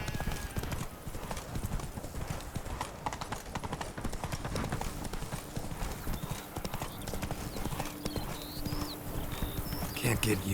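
Horse hooves clip-clop steadily in The Witcher 3, a brisk even rhythm of close, clear hoof strikes running throughout, with a voice talking over them and faint background ambience.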